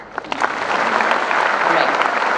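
Audience clapping at a graduation day ceremony, building from a few scattered claps into steady applause from a large crowd, with some voices mixed underneath.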